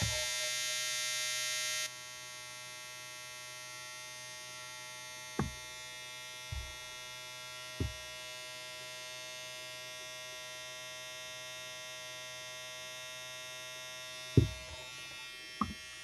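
A Gillette Styler 3-in-1 beard trimmer motor runs with a steady electric buzz and hum throughout, a brief louder whirr at the start, and a few soft handling clicks.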